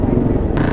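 A two-stroke motorcycle engine at a stunt lot gives a loud, close, brief rev. Voices sound over it.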